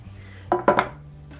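Freshly baked bread loaves knocked out of metal baking pans, two or three quick hollow metallic clunks in close succession, near and brief, over a low steady hum.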